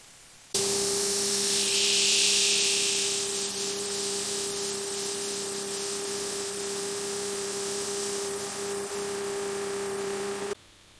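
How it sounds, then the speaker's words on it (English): A computer-controlled router carves a cedar beam for a giant pencil, producing a steady droning machine hum with a hissing, noisy edge that holds evenly for about ten seconds. "The computer-controlled router removes thousands of pounds of excess cedar with millimeter precision."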